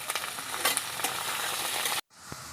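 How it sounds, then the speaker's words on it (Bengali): Chopped ridge gourd fries over onions in a pan with a bright, steady close sizzle and occasional stirring scrapes, cutting off abruptly near the end before a quieter hiss returns. "এখন আমি পেঁয়াজের উপর দিয়ে দেবো এই যে কেটে রাখা আমি ঝিঙ্গা"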